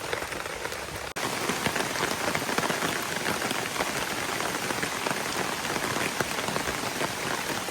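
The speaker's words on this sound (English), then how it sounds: "as you can hear, it's starting to rain again." Steady rain pours onto a campsite with hammocks and a tarp, a dense, continuous hiss of drops striking surfaces close by, loud and unbroken apart from a brief dip near the start.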